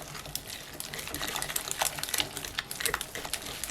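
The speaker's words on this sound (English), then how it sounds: "Whisk it until it's smooth." Mascarpone cheese is whisked briskly in a bowl until smooth, making rapid, irregular close-up clicking and soft wet slapping strokes with no talk.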